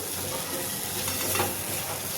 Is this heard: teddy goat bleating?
no